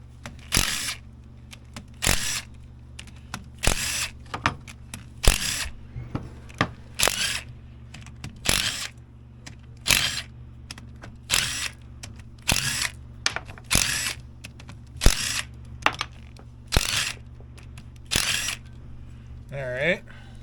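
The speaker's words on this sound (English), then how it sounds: "let's rip the head bolts off." Head bolts are undone on a stuck vintage Polaris Indy 500 snowmobile engine with a power tool, which gives a dozen or so short, loud bursts of whirring and rattling at fairly regular intervals, with speech in between.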